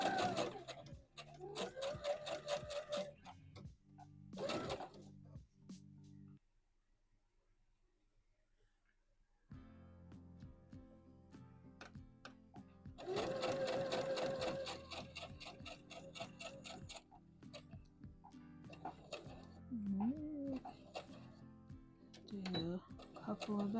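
A home sewing machine stitches a dress from McCall's pattern M8141 in fast, rattling bursts with a rapid mechanical ticking rhythm, pausing briefly between runs while a person talks over and between the stitching.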